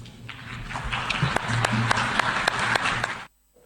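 Sparse, scattered applause after a speech at the United Nations: a handful of people clapping with distinct individual claps over a low room murmur, ending abruptly.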